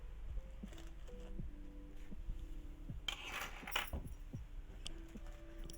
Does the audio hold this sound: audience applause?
no